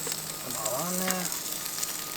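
Chicken wings sizzling on a hot BBQ grill, a steady soft hiss and crackle throughout, with a short low tonal groan like a distant animal call rising over it midway.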